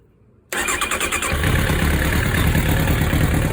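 A 1999 Kawasaki ZX9R motorcycle cranks briefly with a rapid stutter, then catches and settles into a loud, steady idle close by.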